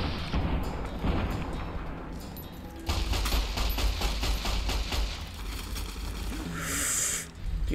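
A 9mm pistol firing in the video game Fallout: New Vegas, with repeated gunshots in quick succession over game background sound.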